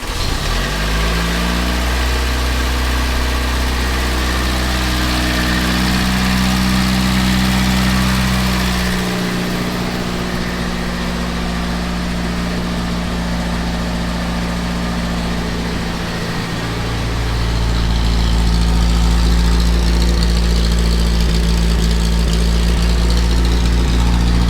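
A 1961 Triumph TR3A engine idles after a carburetor tune, warming up with a steady, loud, close low drone throughout, its pitch dipping briefly a couple of times as the revs settle. No voices are heard.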